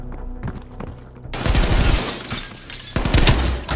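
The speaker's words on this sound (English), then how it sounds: "Some kind of live fire drill." Gunfire from a live-fire drill in Call of Duty: Black Ops Cold War, starting with faint distant shots, then loud bursts of rapid fire with booming impacts in two heavy waves.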